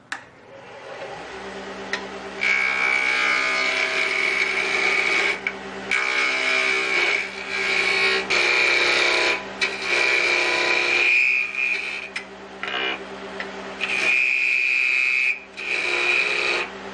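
A wood lathe spins a small rocket ship Christmas ornament while a 1-inch skew chisel rounds it down, giving a steady high whine broken by bursts of scraping cuts. No one speaks.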